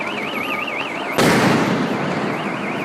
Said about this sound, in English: 2 flashbangs just went off